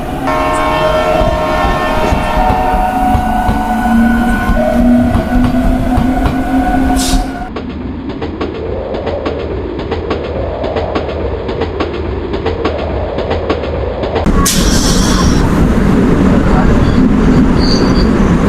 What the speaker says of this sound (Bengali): সেখান থেকে ছেড়ে দিল রাজবাগ থেকে